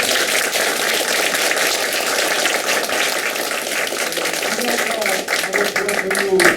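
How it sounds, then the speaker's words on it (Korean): An indoor audience at a lecture gives steady, dense applause of many hands clapping, sustained for the whole stretch with a few voices faintly beneath. "큰 박수 한번 부탁드립니다"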